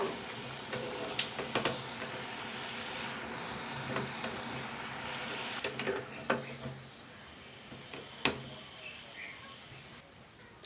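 Moong dal burelu fry in hot oil with a steady, fairly quiet sizzle and bubbling close by, broken by occasional clicks and taps of a utensil.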